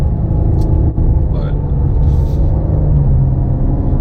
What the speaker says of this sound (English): For a V6, this is one of the best sounding V6 I've ever test driven.